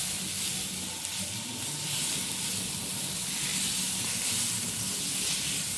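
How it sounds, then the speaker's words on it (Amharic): Fava beans for Ethiopian ful cook in a pot, giving a continuous, even, close sizzle and hiss with a faint bubbling undertone throughout and no talking. "እንደምታዩት ጭጭት እያለ ነው።"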